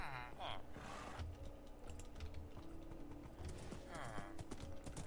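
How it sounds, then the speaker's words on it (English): Horse hooves clip-clop in Minecraft in a quick, steady rhythm, close by and fairly quiet, with brief bursts of other game sounds around them. "Horse! Yes!"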